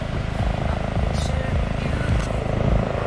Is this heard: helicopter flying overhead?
yes